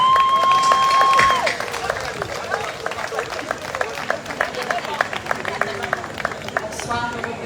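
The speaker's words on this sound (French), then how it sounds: "Je vous demande d'applaudir bien fort Madame Caroline Berthaud, une de nos présidentes d'honneur." Audience at a village patronal festival evening of speeches applauds for an honorary president, steady dense clapping over crowd noise after a tone at the start, carrying on for several seconds.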